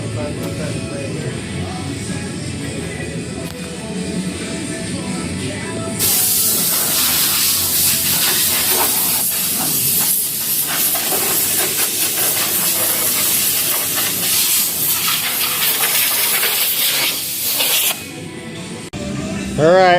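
Spray primer hissing onto the frame of a 1956 Chevrolet 210 Delray two-door hardtop, outdoors in cold weather, a loud continuous broadband blast for about twelve seconds, with quieter shop noise before and after.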